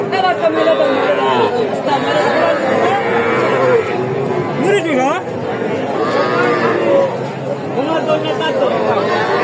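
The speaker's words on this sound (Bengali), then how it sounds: "সাইয়াল ষাঁড় বাচ্চা, একবারে সেরা মানের একটা বাচ্চা।" Sahiwal bull calves and other cattle lowing at Raniganj livestock market in Ghoraghat, with repeated moos rising over a loud, constant crowd of people talking.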